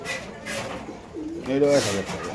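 Large pigeons at a pigeon farm give a few low, throaty coos, with one louder warbling call near the end against faint background noise.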